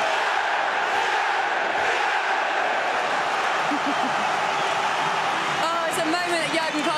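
A Liverpool football crowd roars and murmurs in a continuous wash of noise at a match, with a commentator talking over it throughout.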